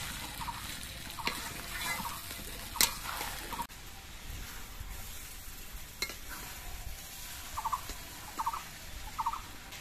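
Lentils and broken wheat (daliya) sautéed with vegetables in a pan, giving a steady low sizzle broken by spatula scrapes and stirring knocks, with a few sharper clatters near the end; no one speaks.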